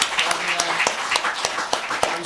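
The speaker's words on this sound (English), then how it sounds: "One more round of applause." Scattered claps from a poetry festival audience, a thin run of individual hand strikes over about two seconds, with some background voices.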